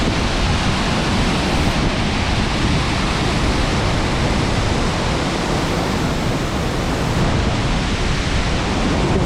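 A steady, full roar of a waterfall in Khao Yai National Park, Thailand fills the scene without pause, loud and close, with no voices.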